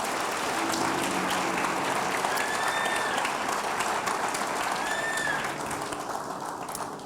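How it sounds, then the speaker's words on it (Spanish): Congregation applause in a church service, dense steady clapping from many people lasting several seconds, fading slightly at the end, with faint voices under it. "Dele el mejor de sus aplausos al Señor."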